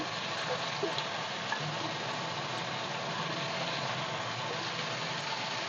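Eggplant pieces fry in a pan with a constant, dense sizzle that stays even and close throughout, with faint stirring underneath and no voices.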